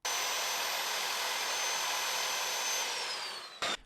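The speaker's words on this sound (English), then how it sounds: "The sound of saws and hammers fill this North Lawrence neighborhood" A power saw whines steadily at a house construction site in a North Lawrence neighborhood, a loud continuous buzz that drops in pitch toward the end and then stops, followed by a short burst of noise.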